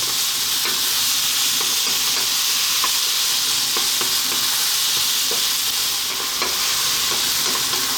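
Tomato sizzles steadily in a hot pan for a vegan spinach curry (saag masala), with frequent light scrapes and taps of stirring running through the constant frying hiss, close and fairly loud.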